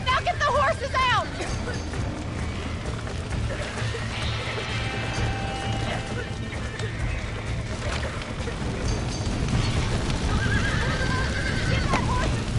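A horse whinnies loudly at the start and again near the end in a video game, over clopping hooves and a busy murmur of voices.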